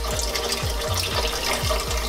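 Tap water runs steadily in a kitchen sink while sausage casings are rinsed and flushed through, a continuous close broadband gush with faint low gurgles, no talking.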